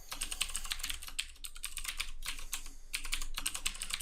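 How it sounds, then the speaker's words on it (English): Quick, steady keystrokes on a laptop computer keyboard as a password is entered, close and fairly faint, in clustered bursts with brief pauses, no voices. "if I can type the password correct,"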